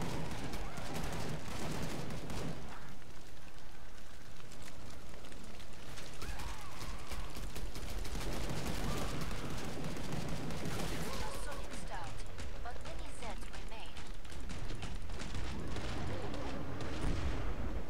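Single-shot gunfire rings out in the zombie shooter Killing Floor 2, with repeated sharp, loud shots spread through dense, chaotic combat noise while voices talk over it.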